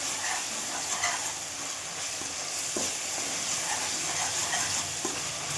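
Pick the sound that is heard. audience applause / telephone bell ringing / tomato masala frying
tomato masala frying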